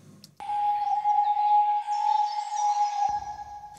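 A single sustained bird-like tone sings out, clear and steady for about three seconds, with faint chirpy flutters above it.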